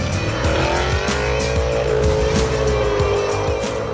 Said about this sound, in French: Et on écoute le bruit de ce V8.